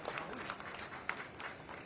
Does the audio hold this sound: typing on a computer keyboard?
no